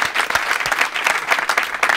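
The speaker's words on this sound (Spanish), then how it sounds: "Un aplauso para estos chicos." Studio audience applause on a Spanish comedy talk show, a dense steady burst of many hands clapping, loud and close, with no voices over it.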